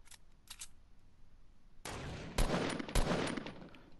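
A sniper rifle in the video game Fortnite fires sharp, loud cracks, a few distinct shots in quick succession after faint clicks, with no talking.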